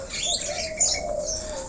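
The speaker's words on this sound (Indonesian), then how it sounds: "Di sini ada jalak Nias." A Nias hill myna gives a sustained whistled tone broken by brief chirping notes, fairly close and clear, with no voices.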